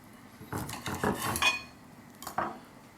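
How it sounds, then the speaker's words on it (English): A knife cutting a rack of smoked ribs sounds as a run of soft, close scraping and tapping strokes against a board, followed by a brief pause and one last short cut. "Let me just cut one of these off real quick so you can check out the inside"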